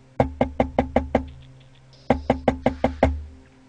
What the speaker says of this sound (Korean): 자취방 문을 누군가 두드리는 소리가 들렸다